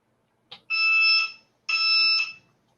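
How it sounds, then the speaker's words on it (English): An electronic alarm beeps twice in a quiet room during ammunition reloading on a turret press, each tone a loud, steady, high-pitched sound lasting close to a second. "That's your alarm, isn't it?"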